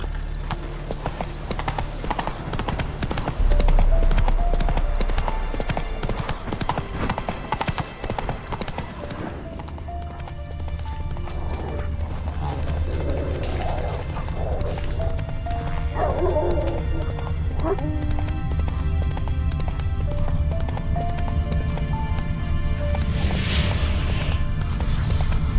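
Horse hooves clip-clop at a steady gallop in The Witcher 3, running through the whole stretch over game music and ambience, with an occasional whinny.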